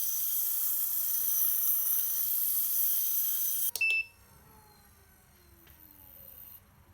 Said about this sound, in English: I ran the motor and used an old file with the end ground flat to shape and smooth the pulley surface